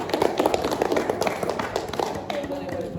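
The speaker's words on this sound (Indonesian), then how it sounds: "Oke, kita kasih tepuk tangan." A classroom group claps hands together in a dense, continuous patter of overlapping claps, fairly close and steady throughout, with some voices mixed in.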